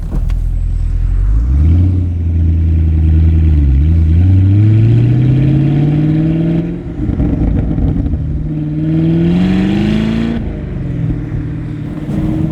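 A 2019 Chevrolet Camaro 1LE engine loud and close, revving up through gears in long rising pulls, dropping at each shift, then climbing again before easing off.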